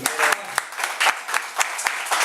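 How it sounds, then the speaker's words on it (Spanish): A burst of applause with sharp claps over a steady clatter, filling the moment with energetic crowd clapping during a church sermon. "¿Quién le da un aplauso, Señor?"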